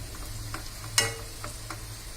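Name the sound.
half of cooked basmati rice layered into biryani pot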